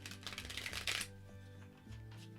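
Tarot cards being shuffled by hand: a quick run of papery riffling flutters for about a second, then settling into a quieter soft rustle over a low steady background hum.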